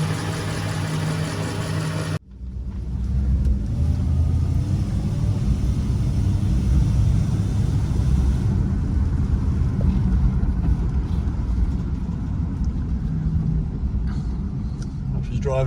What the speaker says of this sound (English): Driving really good with the Carby rebuilt.